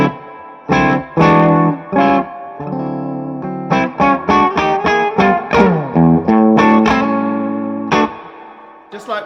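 Electric guitar played through a Two Rock Classic Reverb amp with extra reverb for room atmosphere: ringing chords and single notes, loud and close, with a long wash of reverb between strums and no talking.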